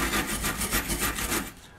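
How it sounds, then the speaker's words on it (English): Rhythmic rubbing strokes polish the metal surface of a Raleigh Wisp moped brake shoe, a close, scratchy back-and-forth rasp repeating about eight times before stopping. "just polishing up and cleaning the metal surface of the brake shoe like that"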